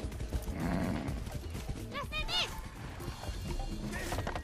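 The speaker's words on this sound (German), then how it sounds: "das Pferd macht einfach den Sound kaputt." A horse whinnies and snorts amid clip-clopping hooves in the video game Far Cry 6, with game-like sounds and voices talking in the background.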